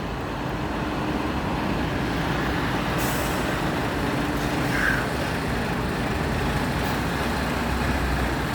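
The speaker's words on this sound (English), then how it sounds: "Just going to stay put now until the Kerrygold truck passes." A Kerrygold truck passes on a road in Mallow, County Cork, during a fuel protest. It gives a loud, steady, broad roar that fills the whole stretch, with a faint hiss partway through.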